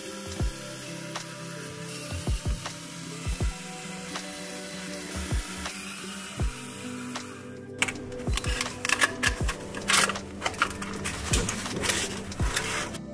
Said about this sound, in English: Remove the remaining screws.